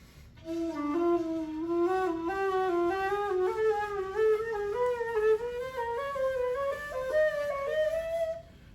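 A chromatic harmonica plays a long, flowing line of quick notes climbing steadily upward in a repeating pattern, clear and close with no talking.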